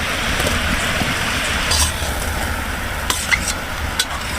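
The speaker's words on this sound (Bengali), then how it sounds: "আমার চিনির শিরাটা অনেকটা হয়ে আসছে। এখন আমি নারকেল কোড়াটা দিয়ে দেবো।" Grated coconut stirred into bubbling sugar syrup in a pan while making semolina laddu; a steady close sizzle with scraping spoon strokes and a few sharper clinks, no talking.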